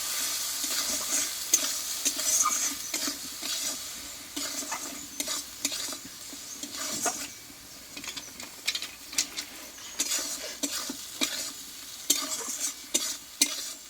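Spice paste with salt and turmeric being stirred and fried in a pan for a Bengali potato and pointed gourd dalna, tomato melting in: steady sizzle with repeated scraping strokes of the spoon, close and fairly quiet, no voices.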